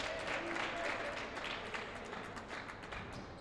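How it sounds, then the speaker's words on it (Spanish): Spectators in the stands applaud during a basketball game at a Prefederal match, a steady wash of clapping from a moderate distance that slowly fades, with crowd murmur mixed in. "Aplaude la gente de Biguá que está en la tribuna."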